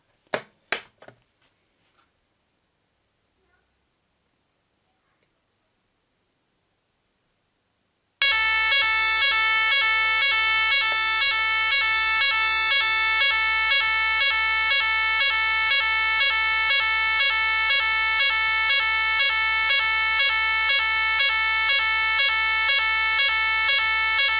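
A type 4 radio fire alarm under test: a few sharp clicks, several seconds of silence, then a loud continuous pulsing electronic tone that runs steadily to the end.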